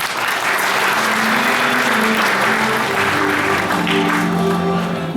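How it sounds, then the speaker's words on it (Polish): An audience applauds at a Polish anti-awards ceremony for the worst films of 2013, honouring the worst director. The clapping is dense and steady, loud and continuous for the whole stretch. "Wielkie brawa."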